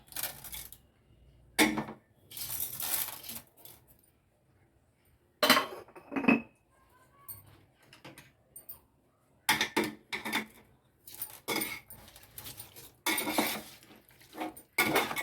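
Metal spoon scraping and clanking against a pot while chicken biryani ingredients are stirred and mixed, irregular bursts of clinks and scrapes with quiet gaps between, close and fairly soft.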